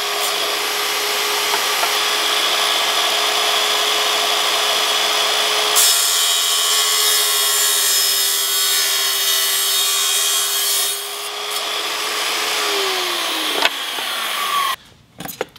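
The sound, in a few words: cutting a miter in Schluter tile trim profile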